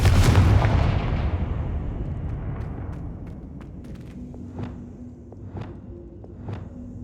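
A Confringo fire spell detonates in Hogwarts Legacy: one loud booming blast that rolls away over several seconds, followed by scattered sharp crackles and pops as it fades.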